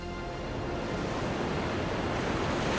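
Sea waves on a coast make a dense, continuous roar of surf, loud and steady throughout and slowly building, with no voices over it.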